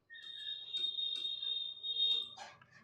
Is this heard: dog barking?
no